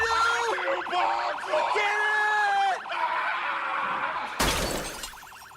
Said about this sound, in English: I saw a service car in the parking lot and turned on its siren before diving back into the Gigamart